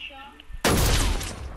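Gunfire from a newly added gun in a video game: a single loud, sharp shot erupts after a quiet stretch and its long dense report carries on for about a second, with faint game background beforehand.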